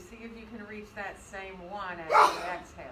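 A single short sneeze bursts out during a yoga class, loud and brief beneath an instructor's calm continuous talking.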